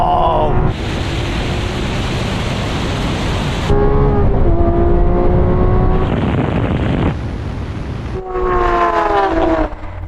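Lamborghini Aventador Ultimae and Aventador SVJ in a half-mile drag race, loud V12 engine roar surging hard with gear-change steps and rising harmonic whine, continuous and close throughout.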